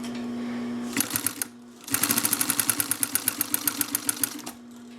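A Singer 44-9 walking foot sewing machine starts, pauses briefly, then stitches in a fast, even run of mechanical clacks over a low motor hum, close and loud, before the stitching stops and the hum continues.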